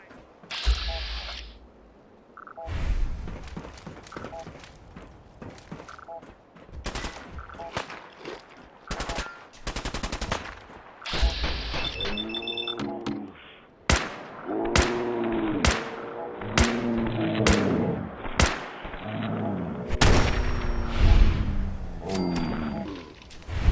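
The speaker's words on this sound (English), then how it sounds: "Let's get the combat rifle out." Combat rifle fire in the video game Fallout 4, sharp single shots and short bursts with mechanical clicks of reloading and handling spread irregularly throughout, loud and close, with little talk.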